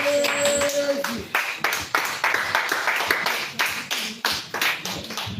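A church congregation claps and applauds the Lord in a dense, continuous wave of hand claps, loud and close, with a brief sung or voiced tone at the start.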